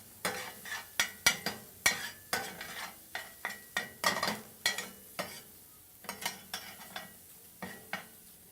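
A utensil stirring tomato sauce in a hot pan with no oil: a steady run of short scraping strokes against the pan, fairly close and evenly paced, with a faint sizzle beneath.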